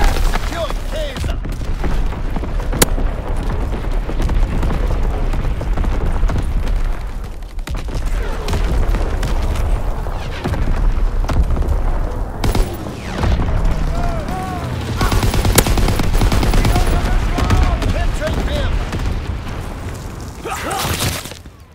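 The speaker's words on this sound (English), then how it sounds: "Incoming enemy artillery. Get to cover." Artillery shells exploding in Call of Duty WWII multiplayer, heavy booms and crackling blasts overlapping with gunfire in a dense, continuous battlefield roar, with game voice callouts now and then.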